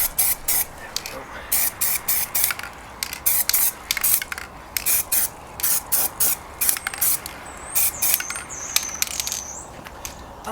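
Camouflage base coat sprayed from an aerosol can through stencils, a series of short hissing bursts in steady rhythm, close and fairly loud, with faint higher squeaks near the end.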